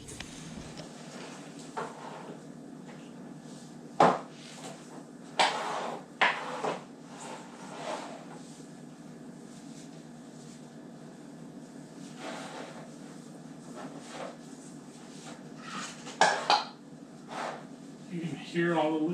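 Metal canning jar lids, sealed around pressure-cooked trout with spices, pop one after another as they cool, several sharp clicks scattered over a steady hum with some talk.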